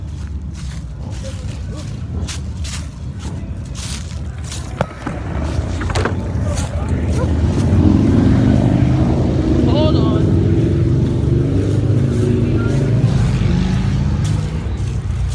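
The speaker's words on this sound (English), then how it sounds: "everybody who has a motorcycle has passed by my house" Engine noise rumbles and builds as vehicles pass close by, a loud, sustained roar with a brief spoken phrase near the start.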